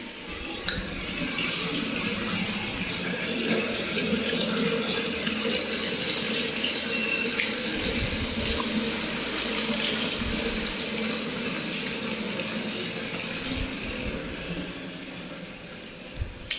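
Steady running water filling for a bath, a continuous hissing splash that holds at an even level throughout, close by with no talking.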